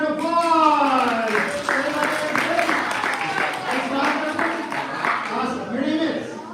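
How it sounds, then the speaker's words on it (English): Audience at a magic show clapping and applauding, a dense burst of hand claps lasting several seconds while someone speaks over it. "Big round of applause."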